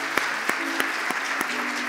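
A Korean church congregation in Orange County applauds together, a brief burst of crowd clapping at even strength with a few sharper, louder claps standing out from the steady patter.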